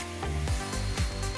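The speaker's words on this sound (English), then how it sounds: "Positions marked, now we can drill." A multi-bit drill in normal drill mode bores through bathroom wall tile, a close, steady whirring grind that pulses roughly every half second as the bit bites.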